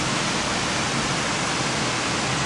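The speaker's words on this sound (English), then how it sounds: "little waterfall over there if you can't see." A small waterfall on a moorland walk gives a steady, dense rush of falling water, continuous and fairly close, with no voices.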